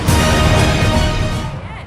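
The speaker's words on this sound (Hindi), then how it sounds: "एक आखिरी टक्कर," A car smashes into something in GTA Vice City, a loud broad crash that rings on and then fades away near the end, with no voices over it.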